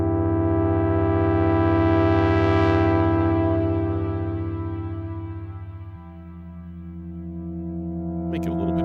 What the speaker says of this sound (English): And maybe dial in a different reverb on this one.